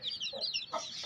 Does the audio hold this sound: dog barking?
no